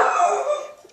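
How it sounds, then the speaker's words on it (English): A single drawn-out dog bark or howl, close and fairly loud, fading at the end. "What are you barking at?"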